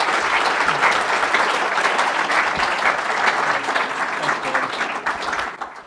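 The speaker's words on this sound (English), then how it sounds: "Let's give Brian and Mike a round of applause for joining us today." Sustained, loud applause from a conference audience at a dairy industry panel, a dense crowd of clapping that holds steady for several seconds and thins slightly at the end.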